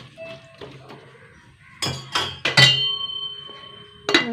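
A spoon clinks and scrapes against a cooking pot while stirring a curry mixed with turmeric, chili powder, salt and water. Several sharp metallic knocks come in uneven bursts, close and fairly loud.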